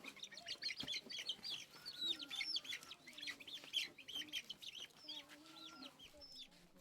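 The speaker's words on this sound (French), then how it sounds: "Les poussins sont alors sortis du panier pour être sacrifiés aux ancêtres" Chicks taken from a basket during a Kabiyè ancestral sacrifice ceremony chirp and cluck continuously, a busy layered chorus of high peeps at moderate distance with no talk.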